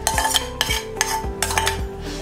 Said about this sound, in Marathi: ओलं खोबरं आहे ते थोडंसं तव्यात पॅनमध्ये आपण भाजून घेऊया